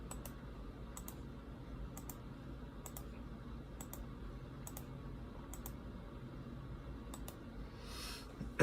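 A computer keyboard is typed on in sparse, sharp clicks spaced out at a slow uneven rhythm, heard close over a low steady room hum.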